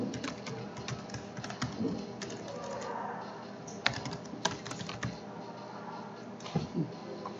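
Clicks and taps from a computer keyboard come in irregular bursts, close and fairly quiet, with a few sharper keystrokes standing out.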